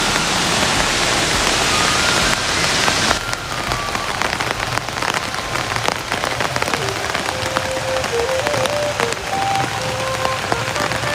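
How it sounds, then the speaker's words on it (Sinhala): The Garandi Ella waterfall in Sri Lanka roars as a loud, steady broadband rush of falling water, continuous throughout with no voices. "ඒක ලස්සන දිය ඇල්ල"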